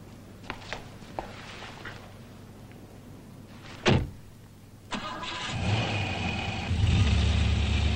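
A car door shuts and an engine cranks and catches, then idles and revs up as the car pulls away, growing louder toward the end; a few light clicks and knocks come before it.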